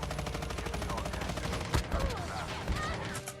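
Rapid gunfire in a shooter video game rattles as a fast run of shots for over a second, then a few heavier, scattered bursts follow amid dense game noise.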